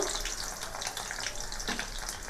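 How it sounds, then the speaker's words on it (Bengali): Chopped garlic hitting hot oil in a pan for a chili chicken dish, a steady, close, loud hiss of frying with no voices. "আমার তেলটা গরম হয়ে গেছে এখানে আমি কিছু কুচিয়ে রেখেছি রসুন রসুনগুলোকে আমি দিয়ে দিলাম"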